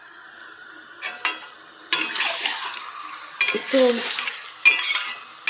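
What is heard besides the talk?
chicken being sautéed and stirred in a pan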